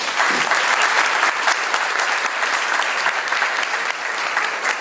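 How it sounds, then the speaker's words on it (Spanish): Audience applause following a request for a big round for the guests at a talk, steady dense clapping filling the whole stretch at an even level with no voices over it. "les pido un fuerte aplauso para ellos"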